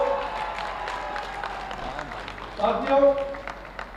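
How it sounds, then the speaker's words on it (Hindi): Crowd applause at the closing ceremony of an MP's sports competition in Gorakhpur as the audience welcomes Maharaj ji. Steady clapping runs throughout and swells near the end, mixed with crowd noise and a voice. "खड़े होकर महाराज जी का दोनों तालियों से स्वागत करके इस मांग को मेरा समर्थन करिए"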